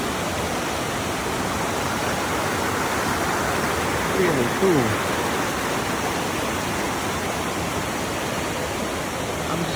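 A waterfall on Siquijor island in the Philippines gives a steady, loud broadband rush of falling water that fills the whole clip, with a brief spoken remark heard over it midway.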